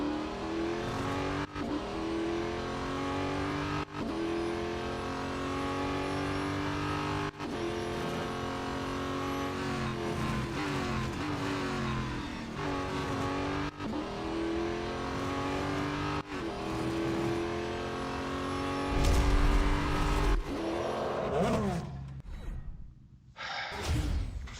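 A race car engine in the Real Racing 3 mobile game's autocross mode, revving continuously with repeated gear shifts and rising and falling engine pitch, ending in a brief loud burst before fading.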